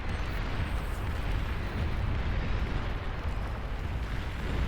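A commander unit explodes in the real-time strategy game Beyond All Reason, heard as a dense, sustained rumbling roar of blast noise with no pauses and no talk.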